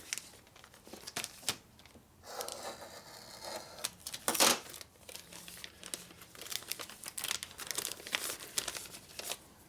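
Motorcycle engine base gaskets made of paper, for an S&S 113ci Harley Evolution motor, crinkle and rustle as they are handled up close, in irregular bursts with a few sharper tearing-like crackles and no talking.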